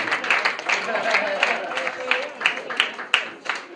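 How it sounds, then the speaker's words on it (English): Audience clapping at a crowdfunding launch event in Kenya, a run of irregular, fairly close claps that keeps up steadily throughout beneath voices. "Let's keep on clapping."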